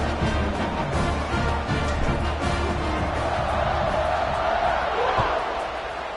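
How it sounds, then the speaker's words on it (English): A stadium crowd in a football video game buzzes after a score, a dense, steady roar of many voices that stays loud and unbroken for the whole stretch. "this crowd is buzzing after that last score."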